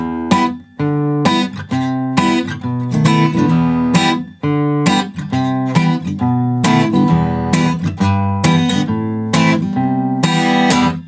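A song verse played on guitar, alone and loud, with steady strummed chords and bass notes in a repeating rhythmic pattern and brief pauses between phrases.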